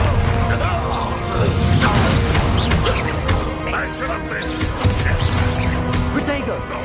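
A Bombarda blasting spell in Hogwarts Legacy bursts amid a busy fight with a troll, with loud, dense explosive crashes and clatter running throughout, while a voice shouts spell names over the din.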